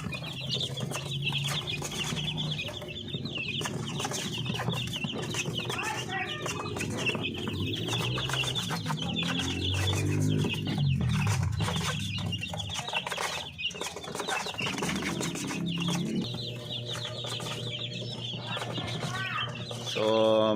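A flock of 20-day-old Paraoakan native chicks cheeps and clucks continuously, many overlapping peeps close by with scattered wing flutters and farmyard background noise.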